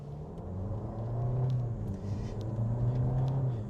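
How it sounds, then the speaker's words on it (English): A 2026 VW Tiguan's EA888 four-cylinder engine hums steadily and rises in pitch under acceleration, a low droning rumble with a few faint clicks, no voices. "one of the most expressive versions of the EA 888 I've ever heard"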